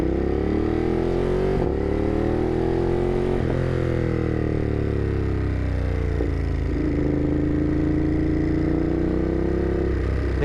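A 2021 Ducati Monster 937 on the road, its engine droning steadily close by while riding, with the pitch rising and falling through gear changes and no talk over it.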